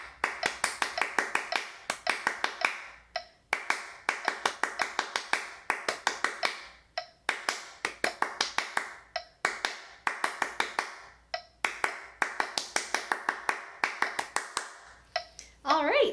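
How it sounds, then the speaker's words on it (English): Sharp hand claps beat out a steady counted rhythm in four repeated bursts separated by short pauses, close and clear, with a counting voice woven through the pattern during a flute lesson on 3/8 time and sixteenth notes. "I'm going to clap and count first just so that we know exactly what it's going to sound like"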